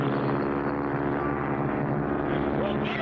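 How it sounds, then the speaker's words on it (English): Cartoon propeller airplane drones close overhead, a loud, steady buzzing engine hum with even tonal layers and no break, ending with a faint wavering whine. "There's another plane right on top of us."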